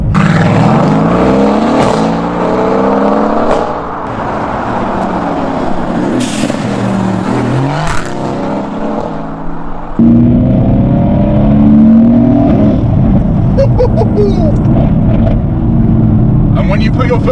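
A Renntech-tuned Mercedes-AMG GT S accelerating hard, its engine note climbing through rising gear sweeps with brief drops at shifts, loud and close from inside the car, with a voice talking over parts of it.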